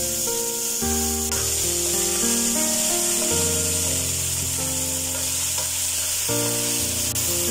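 Tomatoes frying in ghee and oil in a pan for Chettinad squid masala give off a steady sizzle with stirring, partly buried under loud background music.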